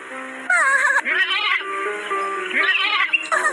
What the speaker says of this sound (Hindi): एक भूखे भेड़िए ने रोते हुए लैम्ब की आवाज सुनी।